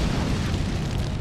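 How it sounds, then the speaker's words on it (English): A fireball jutsu explosion in the Naruto Ultimate Ninja Storm game, a short loud roaring burst of fire with dense low rumble, heard alone. "Fireball jutsu!"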